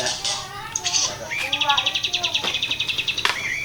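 Birds chirp noisily close by, with a rapid run of repeated high tweets in the middle and scattered calls around it, over faint background noise.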